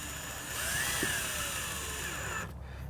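A power drill drives screws into a lock plate on a Class C RV door, a steady whirring whine lasting about two and a half seconds before cutting off, close by and with no talk.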